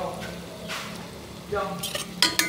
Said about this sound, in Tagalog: inilagay natin sa mantika yung mga ingredients